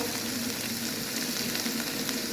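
Guava vegetable with green chillies fries in a pan with a steady, dense sizzle throughout, close and even in level, with no talking.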